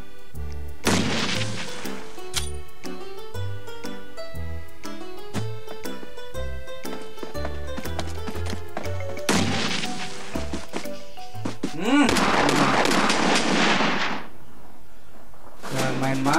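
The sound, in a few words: pump shotgun gunfire in PUBG Mobile video game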